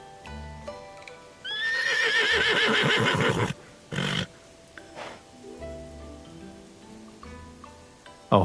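A horse whinnies loudly for a couple of seconds in the Love and Deepspace video game, followed by a short burst and quieter hoof clip-clops against faint rain-like background ambience.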